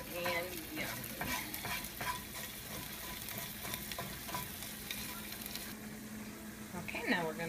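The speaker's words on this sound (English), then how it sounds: "Stir this for about 30 seconds to a minute. Let that garlic get" Garlic sizzles in a pan while being stirred, with steady frying hiss and repeated scraping strokes of a utensil, close and fairly quiet, and a brief voice near the end.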